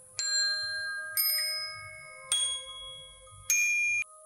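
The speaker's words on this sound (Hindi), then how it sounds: "अचानक राजू को बाहर से घंटी जैसी आवाज सुनाई दी।" Four clear bell-like dings ring out about a second apart, each bright tone lingering briefly before the next, over a faint low rumble.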